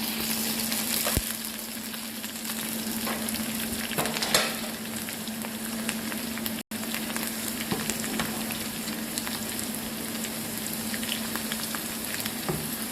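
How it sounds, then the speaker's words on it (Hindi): Red chili powder fries in hot tempering oil for kadhi pakora, giving a continuous dense sizzle with faint stirring scrapes, close and steady, briefly cut off midway. "इसमें सुर्ख मिर्च का पाउडर जो है वो हम 1 टीस्पून डाल रहे हैं"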